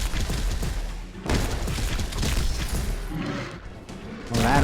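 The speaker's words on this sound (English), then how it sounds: "The explosions look really good in the darkness" Heavy, rumbling video game explosions boom one after another in darkness, loud and close, with crashing debris and a fresh blast hitting at the end.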